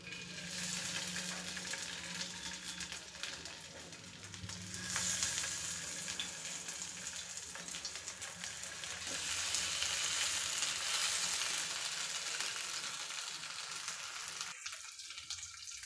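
Rava-coated fish pieces frying on a tava keep up a loud, steady sizzle throughout, swelling twice as pieces are added and stirred, then breaking off sharply near the end.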